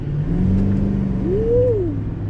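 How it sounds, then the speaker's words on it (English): The diesel engine of a 2022 GMC Sierra 2500HD Denali pickup truck hums steadily, then revs up in one smooth rise and falls back to a low, rumbling idle. "The diesel sounds good. Check this sound out."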